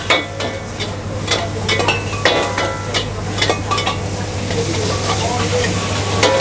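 Bangkok sauce with sugar and MSG is stirred in a hot pan, giving a steady sizzle punctuated by sharp clacks of the utensil against the pan, all over a low constant hum.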